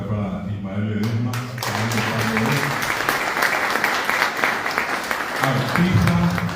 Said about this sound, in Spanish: quiero pedir un aplauso fuerte acá para Ismael Ledesma